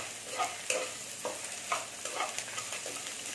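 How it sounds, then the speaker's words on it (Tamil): Onion, ginger, garlic and whole spices such as pepper and cumin fry in a pan, giving a soft steady sizzle with a few light stirring scrapes, fairly quiet. "இந்த மசாலா எல்லாத்தையுமே ஒன்றாவே இதில் போட்டுருவோம். கொஞ்ச நேரம் பொரியணும்."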